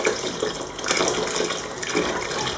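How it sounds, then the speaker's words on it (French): Water poured generously into a pot of white beans being cooked in sauce, a continuous close splashing rush of liquid filling the pot with no voices. "Là, je vais mettre de l'eau, suffisamment de l'eau."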